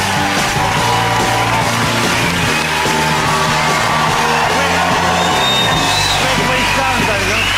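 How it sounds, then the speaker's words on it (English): A studio audience on a TV chat show erupts in loud, sustained cheering, whooping and applause as comedian Griff Rhys Jones comes on, with music running underneath the crowd noise. "Milking the applause."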